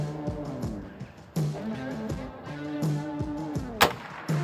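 A service rifle fires outdoors, giving a few sharp, fairly faint reports spaced apart over low background noise.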